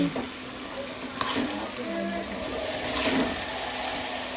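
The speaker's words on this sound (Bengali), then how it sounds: "এদিকে পাঁচ তরকারি আলুটা ভেজে নিচ্ছি" Potatoes frying in a home kitchen while a birthday meal is prepared, a steady close sizzle with light stirring scrapes and occasional faint clinks, continuous throughout.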